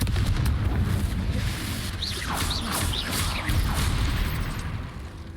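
Confringo fire spell blasts in Hogwarts Legacy, a dense roar of booming explosions and crashing debris with a few whooshing magical streaks, loud and continuous throughout.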